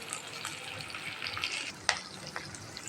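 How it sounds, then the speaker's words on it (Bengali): Fish roe sizzles in hot oil in a pan, a steady soft hiss broken by a few sharp crackles and pops, fairly quiet with no talking. "আমি সবগুলো ডিম আগে তেলের ভিতরে ভালো করে ভেজে নেব।"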